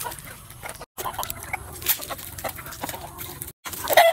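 Chickens cluck and chatter nearby in a busy, scattered stream, with rustling and brief quiet gaps.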